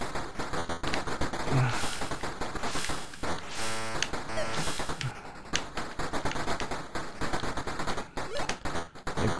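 Rapid video-game gunfire aimed at an alien in the Atari 7800 shooter Alien Brigade, loud bursts of shots rattling over busy game music and effects.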